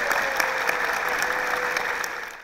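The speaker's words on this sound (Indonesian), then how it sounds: "mari kita berikan aplaus untuk lulusan ITB" Steady applause from an audience honoring ITB graduates at a campus event, dense continuous clapping filling the room at even loudness before fading at the end.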